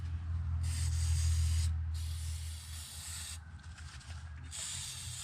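Protective spray hisses onto the battery terminals of a Mazda in short close bursts, several separate sprays starting and stopping over a low steady engine hum.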